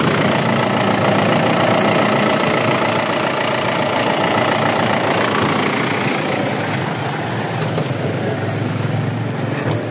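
A car engine, unused for almost a month, idles loudly and steadily up close with the air conditioning on, a continuous rumbling drone with a slight knocking texture throughout.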